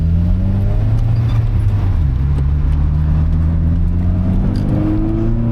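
A Honda Fit with its brake booster deleted drives on a test run, its engine a steady loud cabin hum with gear-whine tones rising and shifting as it accelerates, with no talking over it.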